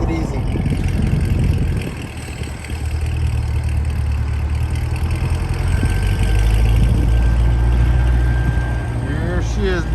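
A C8 Corvette on its stock exhaust, before a Fabspeed exhaust is fitted, idles with a steady low rumble that stays even throughout, with faint background voices and noise around it.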